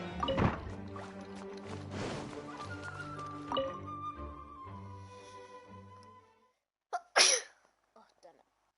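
A person sneezes close to the microphone, two sharp explosive bursts just after a stretch of video-game music and sounds fades out, followed by a small trailing sniff.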